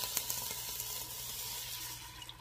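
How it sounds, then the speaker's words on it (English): A cup of water pours into a pot of homemade yellow rice, giving a steady, close, hissing splash with a few small ticks and no talking. "I'm gonna go on and add a cup of water to it."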